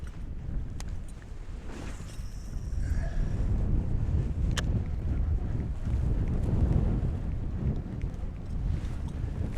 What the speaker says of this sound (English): Here comes the wind again. Oh, this wind is nuts.